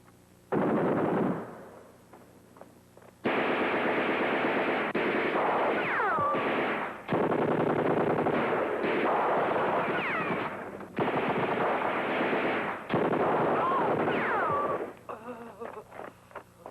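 Gunfire in a 1987 war film about the Battle of El Alamein: one short loud burst, then long sustained volleys of rapid shots from about three seconds on. The firing stays close and dense, with brief gaps, before fading to scattered quieter sounds at the end.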